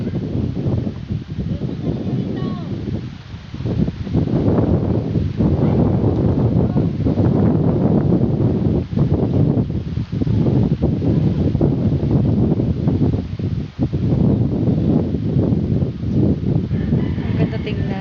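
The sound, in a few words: strong wind by rice fields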